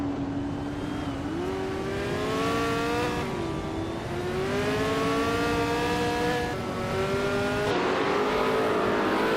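Several race car engines from a racing video game whine and rev continuously, their pitch climbing and dropping through gear changes as cars jostle for position. The engines stay loud and steady throughout, with no talking.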